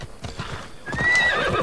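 In Assassin's Creed Odyssey, a horse's hooves clop in a steady rhythm close by, then the horse breaks into a loud, shrill whinny that rises and trails off.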